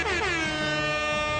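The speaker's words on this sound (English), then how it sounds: "Oh yeah, we do have an air horn on here, don't we?" Loud, steady air horn blast with a bright stack of harmonics, held continuously for over a second with no other sounds.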